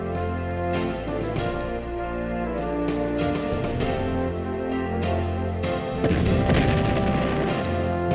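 Musket volleys and cannon blasts ring out in the Civil War strategy game Civil War Generals 2, scattered cracks and booms over steady tonal music, growing heavier toward the end.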